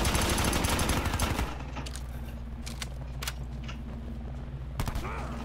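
Gunfire in a Call of Duty match: a dense, loud burst of rapid automatic shots for about a second and a half, then a low steady hum with scattered sharp clicks and one more short shot near the end.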